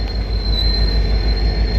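A BNSF lumber train on the Lafayette Branch passing a railroad crossing, a loud close steady rumble of rolling cars with a thin, high, sustained wheel squeal above it and no talk.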